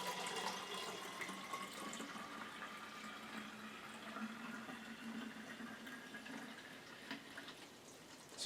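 Lemon juice mixed with sugarcane juice is poured through a funnel into a container for homemade soda, a steady, close liquid stream that runs without a break.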